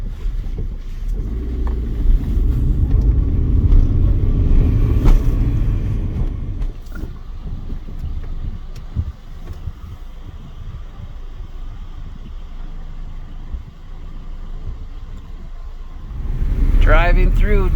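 A car drives through downtown Metepec, Mexico, its steady road and engine rumble close to the microphone while someone talks over it throughout.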